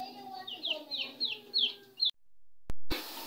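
Sasso chickens cluck softly in a series of short repeated calls over about two seconds, fairly quiet and close, followed by silence and a brief clunk.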